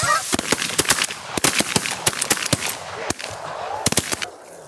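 Canada geese honking in a New York hay field, with repeated loud, sharp honks and gunshot-like cracks coming in quick irregular bursts from close by, and no talk.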